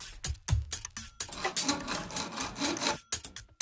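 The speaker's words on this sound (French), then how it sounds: "Recoupez le profilé de jonction à la scie à métaux" Close, rhythmic rasping strokes of a hacksaw cutting through a metal joining profile for a worktop, steady back-and-forth scraping with brief pauses.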